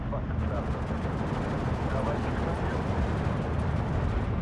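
Dense, continuous rumbling gunfire and explosions from a World War II battle in the video game Steel Division 2, loud and steady throughout with no clear pauses.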